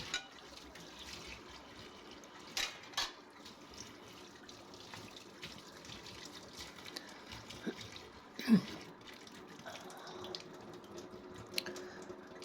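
A pan rinsed under a running kitchen tap, with a faint, steady trickle of water and a few soft clinks of metal against the sink.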